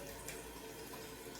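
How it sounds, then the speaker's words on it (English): Water runs steadily from a tap into a sink for washing a face shield and anti-fog mask with antibacterial soap. The rush is close and constant, with no talking. "So get my water going"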